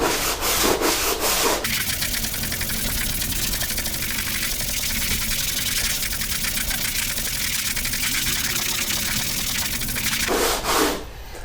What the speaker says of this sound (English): so that was about a minute of sanding, and it is perfectly smooth now